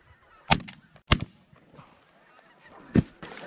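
Snow geese and specklebelly geese honk at a hunting spread, with three loud, sharp bursts of calling standing out over quieter scattered honks and low background noise.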